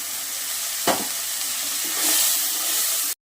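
Water poured onto chili powder and spices frying for chicken curry sets off a loud, steady sizzle and hiss, with one sharp crackle early on, then cuts off abruptly near the end.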